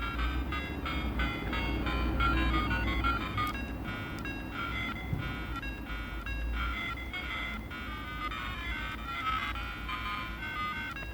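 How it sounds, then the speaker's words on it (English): Simple chiptune rendition of the Japanese Crash Bandicoot theme played on a PocketStation handheld, a bright, tinny looping melody with steady rhythmic notes over a faint buzzing hum, continuous at moderate level. "What you're hearing is actually a simpler rendition of the infamous Japanese theme of Crash Bandicoot."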